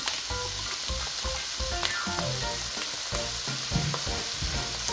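Shrimp with broccoli, mushroom and young corn being stir-fried in a pan, giving a steady, loud sizzle with scraping stirring strokes throughout, close up and with no talking.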